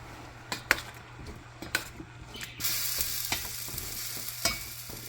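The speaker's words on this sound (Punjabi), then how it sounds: "ਹੁਣ ਆਪਾਂ ਇਹਨੂੰ ਹਿਲਾ ਦਈਏ" Carrots frying in melted butter on a gas stove, stirred with clinking spoon taps against the pan and a steady sizzle that swells partway through, close with no talk.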